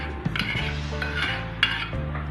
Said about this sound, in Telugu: ఈ పప్పుని, ఉడికిపోయిన పచ్చిపప్పుని పాకంలో వేసుకోవాలి.